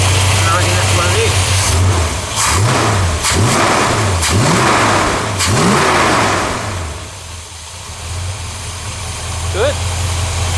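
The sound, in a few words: Ford XW Falcon engine revving through exhaust mufflers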